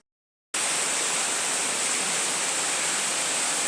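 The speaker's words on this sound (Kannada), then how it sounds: "ನೋಡಿ ಫ್ರೆಂಡ್ಸ್ ಮಳೆ ಹೇಗೆ ಬರ್ತಾ ಇದೆ" Heavy winter rain pours down in a dense, even hiss that starts abruptly after a brief silence and continues steadily, close and loud.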